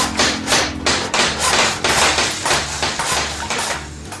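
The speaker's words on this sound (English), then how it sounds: "It's like construction or something." Repeated hammer blows strike at a steady rhythm, roughly two per second, sounding fairly close with a low thudding resonance.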